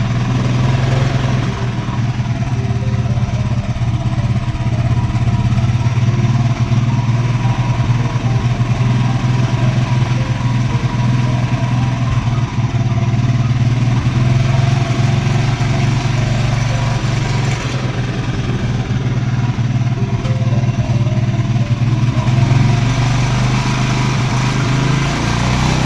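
A Royal Enfield Electra motorcycle idles steadily after a cold start, a continuous loud low thumping hum that holds an even rhythm throughout.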